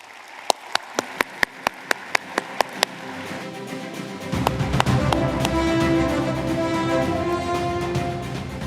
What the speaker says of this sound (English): Maybe another quick round of applause for all of our winners.